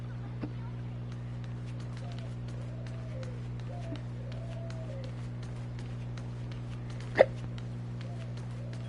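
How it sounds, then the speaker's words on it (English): A person hiccups once, a sharp isolated burst standing out over steady low background hum and quiet game sounds during a Star Rail play session. "Sorry, I got hiccups."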